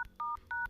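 Three quick touch-tone dialing beeps from an Android phone keypad entering a USSD code, clean and close with short gaps between.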